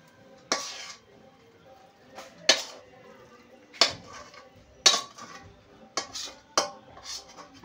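Ladle pressing and flattening a ghee-greased plate of chhana sandesh filling, giving sharp metallic clinks and scrapes in about seven separate presses with quiet pauses between them.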